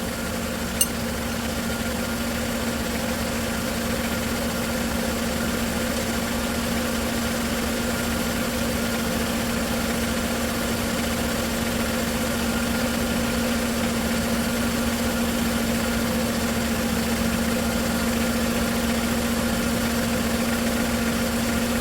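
A Mercedes-Benz engine idles steadily through a 7G-Tronic 722.9 transmission fluid service while the gears are cycled, a close, even, continuous hum with a faint vibration and no talk.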